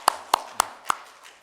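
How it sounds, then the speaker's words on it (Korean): Hand claps in a church during a Sunday service: four crisp, evenly spaced claps close by, then silence, with no voices. "우리 하나님께 감사와 영광의 박수 올려"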